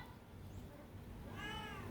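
A cat meows: a single drawn-out, wavering meow near the end, heard fairly close over a steady low background rumble.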